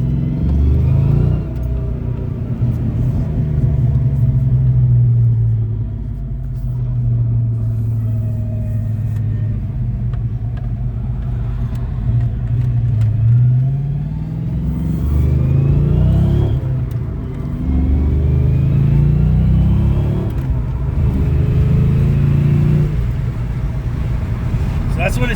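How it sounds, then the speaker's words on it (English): Loud, steady low rumble of a heavily modified car's exhaust fitted with GT40P heads, droning while driving with brief swells of revving over about 25 seconds. "we're gonna let you hear the exhaust."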